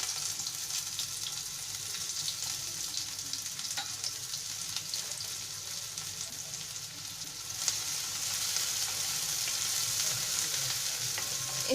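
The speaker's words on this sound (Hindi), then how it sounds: "इसे हमें पिंकिश ब्राउन होने तक भून लेना है" Steady sizzling of onion, garlic and green chili frying in ghee for Punjabi sarson ka saag, with occasional stirring scrapes, continuous and close.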